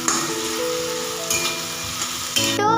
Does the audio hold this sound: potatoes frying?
yes